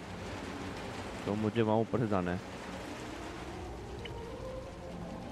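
Rain falls in the video game Little Nightmares 2 as a quiet, steady patter and hiss that runs through the whole stretch, with someone briefly speaking over it partway through.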